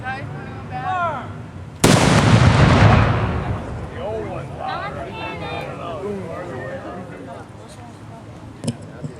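A ceremonial cannon fires once with a loud sudden boom at an Independence Day ceremony, followed by a long rumbling decay; birds chirp and people talk before and after.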